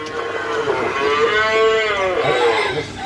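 A single long, loud moo from Sahiwal or Friesian cattle at a Munshiganj farm, rising and falling over steady background farm noise, close by with no speech.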